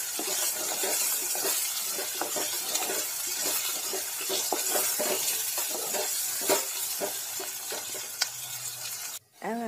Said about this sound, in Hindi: प्याज और हरी मिर्च को थोड़ी देर भूनेंगे।